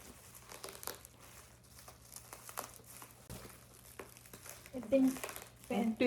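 Cellotape being peeled and a plastic-wrapped parcel crinkled and torn open at close range, irregular rustling bursts growing louder toward the end, with someone speaking over it.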